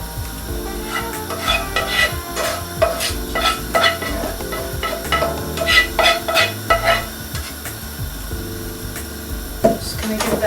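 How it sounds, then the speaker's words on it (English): Cabbage with other vegetables for borscht is stirred in a big pan, producing repeated scraping and clattering utensil strokes over a soft sizzle, close and fairly loud, with no talk. "I'm going to mix it all in together"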